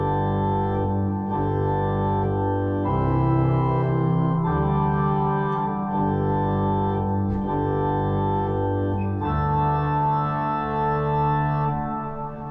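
Organ playing Amazing Grace with left hand and pedals together, sustained chords and a deep bass line moving slowly and steadily throughout, loud and full with no voices.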